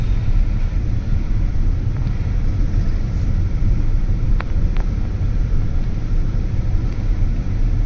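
Steady broadband road rumble of traffic, with a Hyundai Creta SUV among the cars coming head-on along the road; a continuous, fairly loud wash of passing vehicles with a couple of brief higher tones.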